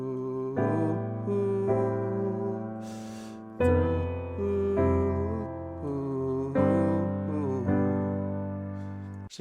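A piano plays the embellished outro chords of a song, with gently blocked two-handed chords ringing out in a slow, quiet sequence, close and unaccompanied.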